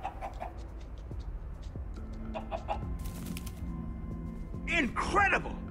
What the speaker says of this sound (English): That's a king chicken.